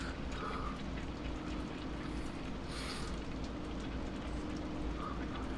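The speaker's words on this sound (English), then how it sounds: "It's raining, of course." Rain falls steadily as a dense, even hiss beneath the low rumble of farm machinery in a farming simulator, with no talk.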